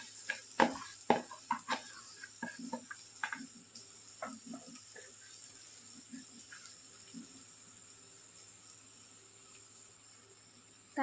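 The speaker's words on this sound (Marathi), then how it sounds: "तांदूळ परतून घेते." Rice is sautéed and stirred in a pan for chicken thokku biryani after mint has gone in. A burst of close spatula scrapes and clicks comes over the first few seconds, then it settles into a soft, steady low sizzle.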